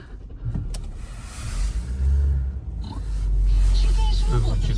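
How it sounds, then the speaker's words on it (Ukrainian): A 2009 Ford Focus Mk2 1.8 petrol engine runs steadily at idle, a low continuous rumble with some mechanical whirring and faint background noise. "Двигунчик працює ідеально."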